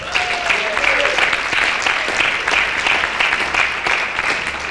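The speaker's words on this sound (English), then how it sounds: "a round of applause for Brother Corrie Betts" Steady audience applause at a criminal justice summit and gubernatorial candidates forum, a continuous wash of clapping from a crowd, with a brief tonal sound early on.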